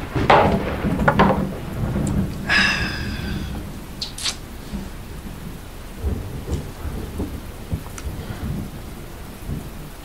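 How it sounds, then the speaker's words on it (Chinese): Heavy rain pours down steadily while thunder rumbles and cracks nearby. A loud burst comes early, followed by further rolls over constant drumming on surfaces, with no voices. "这雨越下越大了。"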